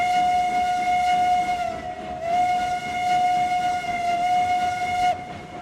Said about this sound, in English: Just a great whistle